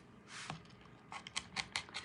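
Scissors snip through the metal end of a number 5 zipper, several short crisp cuts in quick succession after one longer slice, close and alone.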